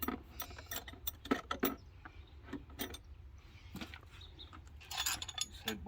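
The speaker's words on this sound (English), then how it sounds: "Got to pull all the head bolts out." Ratchet loosening engine head bolts on a Ford truck, heard as bursts of sharp metallic clicking and clanking nearby, irregular and separated by short pauses, with no talking.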